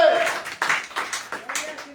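A church congregation claps in a steady rhythm, about six loud, roomy claps in two seconds, with a voice audible at the start.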